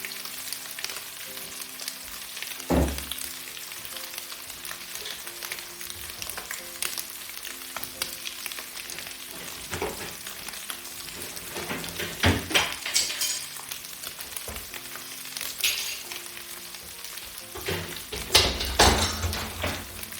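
Pumpkin rice fries in a pan with a quiet, steady sizzle, occasionally punctuated by clinks and scrapes of a utensil against the pan.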